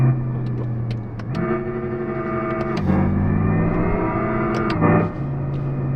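Simulated engine sound in a Lexus RZ electric car while downshifting through the gears and braking: synthetic tonal engine notes that step in pitch at each shift, with crisp shift clicks, heard from inside the cabin.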